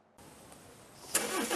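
A car engine cranks and starts after a moment of quiet, settling into a steady running hum that swells louder near the end as it revs.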